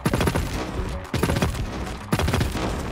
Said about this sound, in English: I'm just going to show you the recoil of the Moonduster